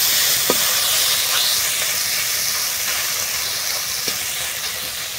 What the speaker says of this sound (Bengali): এখন আমি আস্তে আস্তে শিং মাছগুলো দিয়ে দিতে শিং মাছে পাতলা করে রান্না করবো